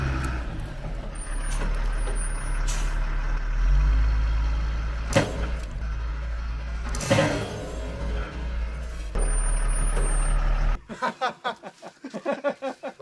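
A truck strains against a tow strap to drag an old D7 dozer that hasn't run in over 20 years. A steady, loud engine drone with air-brake hisses runs under it, then gives way to choppy bursts near the end.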